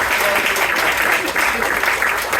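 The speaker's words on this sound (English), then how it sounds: "Let's give them a round of applause for their hypotheses." Audience applause at a live science show, a steady dense wash of many hands clapping at once, loud and sustained from start to end with no break.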